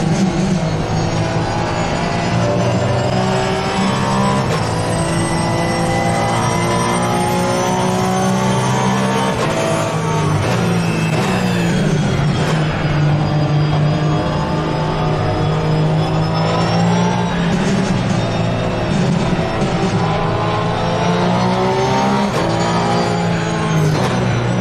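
Race car engine in Assetto Corsa Competizione at Spa, a steady loud drone with rising and falling revs through gear changes and corners, continuous throughout with no talking.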